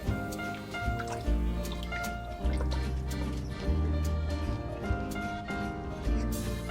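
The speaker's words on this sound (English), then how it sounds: "I'm going to add some good red wine." Red wine splashes and drips into a pot of classic marinara sauce, with soft liquid dribbles heard over steady background music.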